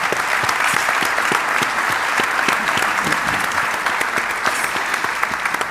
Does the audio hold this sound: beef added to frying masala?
no